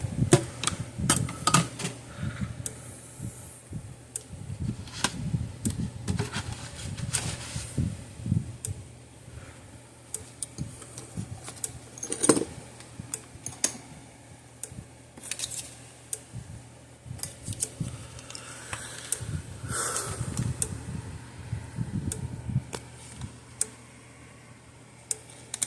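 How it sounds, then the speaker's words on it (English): A Speedrite electric fence energizer clicks repeatedly in irregular bursts over a low steady hum, with sharp ticks and clacks spread across the whole stretch. "It's clicking right along"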